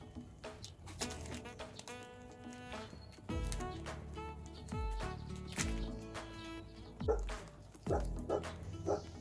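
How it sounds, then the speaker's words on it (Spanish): Several neighbours' dogs bark repeatedly at a moderate distance, sharp overlapping yaps and barks coming in irregular bursts. "Disculpad los ladridos de los perros de mis vecinos,"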